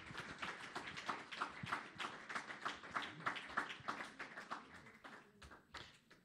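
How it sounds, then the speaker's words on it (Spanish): A crowd applauds, many hands clapping together in a dense, steady patter that gradually tapers off toward the end. "Démosle un aplauso al que da vida para siempre."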